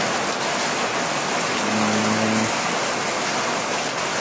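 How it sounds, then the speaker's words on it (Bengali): Heavy rain pours down steadily across a lane in Deganga, a dense, loud, unbroken hiss of water, with a brief low vehicle hum partway through and no talking. "প্রচুর বৃষ্টি হচ্ছে এখানে"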